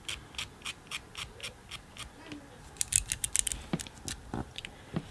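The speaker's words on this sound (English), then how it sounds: "just basically grab the nail filer and just start filing them off" Press-on nail tips are filed off with a nail filer in quick, close, rhythmic scratchy strokes, soft and regular with a few faster bursts, and a voice murmuring faintly at times.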